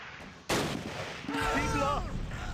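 A mortar hit in Close Combat: Last Stand Arnhem lands as a sudden sharp blast followed by a rumbling, debris-filled decay, with brief tonal effects after it and no talk.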